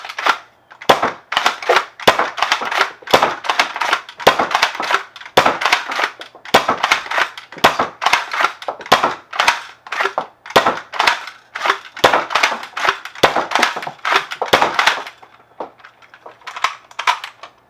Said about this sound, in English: I'm going to cycle through just this 12-round mag real quick